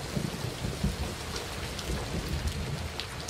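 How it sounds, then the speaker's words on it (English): Heavy cartoon rain pours steadily throughout, a dense, continuous wash of drops beating on surfaces with a low rumbling undertone and no voices. "Whoa, mega rain."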